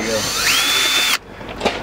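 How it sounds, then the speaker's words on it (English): A power drill whines steadily as it bores a hole into an iPad, then cuts off abruptly, leaving only faint room noise and a small knock. "Do you think if I drill a hole in this, it's gonna?"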